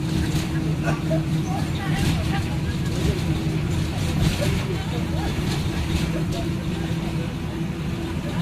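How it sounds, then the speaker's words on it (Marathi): A bus running fast on the open road after Panvel, on a winter trip from Mumbai to the Konkan; a steady, loud engine and road rumble fills the interior throughout, with faint voices in the background. "पनवेल सोडल्यानंतर आता गाडी वेगाने चालते."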